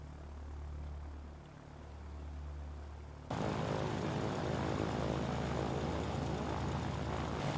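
A bomber's propeller engines in Ground of Aces drone steadily, first as a softer hum, then swelling abruptly into a loud, sustained roar close by.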